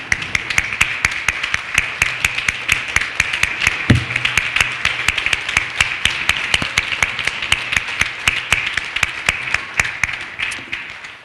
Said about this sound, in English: could we have a round of applause for all of you who could be deemed caregivers in whatever way